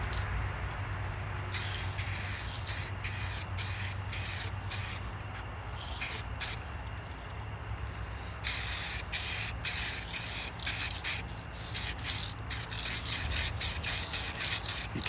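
Short bursts of spray paint hiss onto a car part during a second coat, coming in repeated close passes separated by brief pauses, with a duller steady hum underneath.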